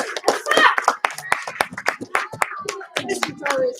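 Children in a classroom clap in short, sharp bursts, several distinct handclaps in quick succession, close by and mixed with brief voices.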